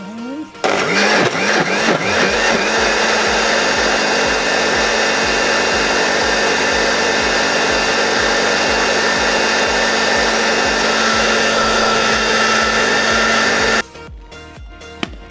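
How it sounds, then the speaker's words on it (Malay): A kitchen blender grinds lemuni leaves with a loud, steady whine that rises as the motor spins up and runs continuously for about thirteen seconds before stopping, followed by a few faint clicks. "Kak Cik akan kisarkan daun lemuni kita ya"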